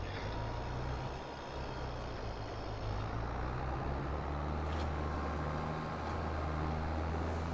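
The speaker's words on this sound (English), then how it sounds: "I can hear the tractor now." A tractor engine drones in Farming Simulator 22, a steady low rumble with a sustained hum and occasional faint mechanical hiss, continuous and moderately quiet throughout.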